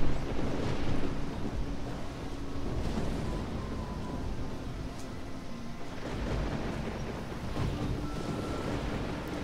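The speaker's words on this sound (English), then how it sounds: "It is a pretty nasty thunderstorm. Fucking lightning every 2 seconds." A heavy thunderstorm with frequent lightning in the video game Risen makes a steady roar of rain and wind. Low rumbles of thunder swell and fade throughout, and faint tonal game sounds sit under the noise.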